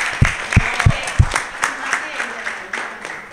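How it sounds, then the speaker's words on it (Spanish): Scattered audience applause at an intercultural program event, with a few loud nearby claps standing out over lighter clapping and voices speaking. "Aplausos, aplausos, aplausos."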